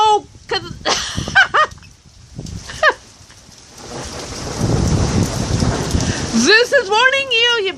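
Rain pours during a thunderstorm, a broad, steady hiss that swells in the middle, while people talk and call out loudly before and after.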